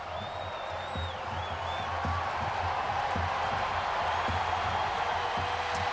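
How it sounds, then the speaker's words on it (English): A football stadium crowd at a college game roars steadily as fans rise to their feet, a dense, sustained wash of cheering that holds at full level throughout, with a faint whistle-like tone early on. "Crowd on their feet."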